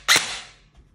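A single sharp crack from a BOLT MK18 Mod-01 airsoft rifle with the B.R.S.S. heavy recoil system, loud and close, with a quick decaying rattle afterward and a faint knock near the end.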